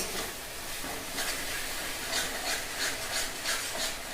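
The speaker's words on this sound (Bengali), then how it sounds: "এবার আমরা মশলাটাকে ভালো করে কষিয়ে নেব। আর এটাকে আমরা পুরো লো ফ্লেমেই কষাবো" A masala spice paste is stirred and fried on a low flame, giving a steady close rasp of scraping and rubbing with a soft sizzle beneath, rising and falling in slow regular strokes.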